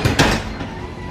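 Garage door opening under its opener, a short rumbling mechanical run with a quick louder burst near the start.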